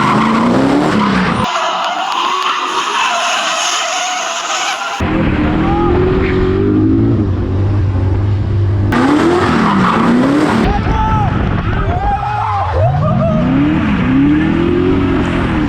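Drift cars at a drift taxi event squeal their tires in long, wavering screeches over roaring, revving engines, loud and continuous, with a voice talking underneath.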